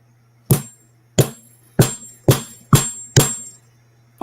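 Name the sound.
hammering rivet into leather bracelet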